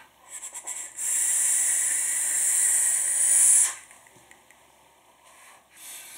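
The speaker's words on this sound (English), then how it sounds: "So let's vape on this thing again." A Kennedy 25 RDA on a mechanical mod with a 0.15 ohm coil is vaped in one long, close draw, a loud airy hiss lasting about three seconds, with a few short crackles before it and softer puffs after.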